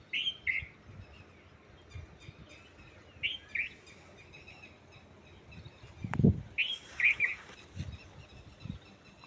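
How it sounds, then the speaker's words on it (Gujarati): Distant birds call in short, repeated phrases over quiet outdoor ambience at an ashram garden, with a soft thud midway. "અહીં બોલતા પક્ષીઓનો રાવ આપ સાંભળી શકો છો"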